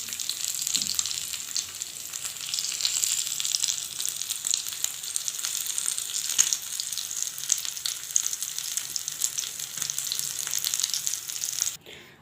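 Chicken tikka pieces fry in oil in a pan, a steady bright sizzle that holds loud and even throughout, alone without voices.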